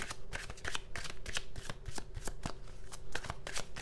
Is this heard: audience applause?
no